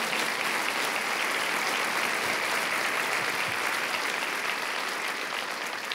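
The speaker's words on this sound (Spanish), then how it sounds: "Dale un aplauso fuerte al Señor." Church congregation clapping loudly and continuously for several seconds during a Spanish-language worship service, a full, even roar of hands with no voices standing out.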